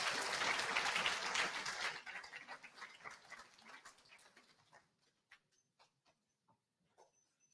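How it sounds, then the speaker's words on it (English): A school assembly audience claps for a group of athletes. Loud, full applause opens the clip, then thins to scattered claps and dies away into near silence. "could we give this group of athletes a round of applause for all their efforts this term?"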